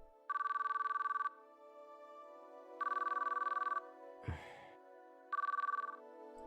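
Outgoing phone call ringing in a quiet room: three electronic ring bursts, each about a second long, separated by pauses over a faint steady hum, with a brief rustle between the second and third rings.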